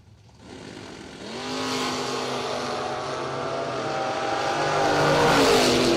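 A drag race car launches and accelerates down the track at a Cedar Falls racing event, its engine roar rising from quiet to a loud, sustained, climbing whine that keeps building to the end.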